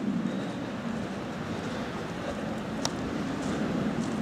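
Wind blows steadily on a forest hiking trail in the Jura, a constant low rushing roar against the microphone, with a faint tick partway through.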